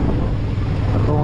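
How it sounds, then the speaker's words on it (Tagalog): Strong wind on a Camiguin Island outing roars loudly and continuously against the microphone, a dense low rumble that buffets without a break. "Masyadong malakas yung hangin, guys."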